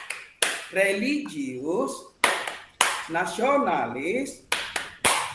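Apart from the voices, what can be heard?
rhythmic clapping of the tepuk PPK classroom clap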